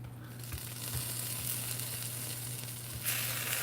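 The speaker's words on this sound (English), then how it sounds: "You want to hear a bit of that sizzle" Food sizzles and crackles in a hot frying pan, a steady hiss with a few soft thumps, close up and fairly quiet.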